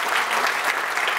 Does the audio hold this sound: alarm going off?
no